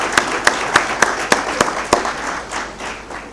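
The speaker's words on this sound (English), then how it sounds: "Let's give another round of applause to our Deputy Minister" Audience applause for a Deputy Minister at a Winter School event in Victoria Falls: a run of sharp, evenly spaced claps ringing out in a hall, thinning into softer scattered clapping toward the end, with no talk over it.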